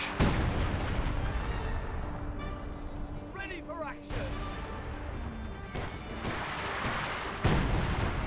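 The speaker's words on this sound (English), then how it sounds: "now I hear the artillery barrage running on in somewhere" Artillery barrage in the real-time strategy game Company of Heroes 2, repeated heavy shell crashes and booms over a dense battlefield din, with someone talking over the action.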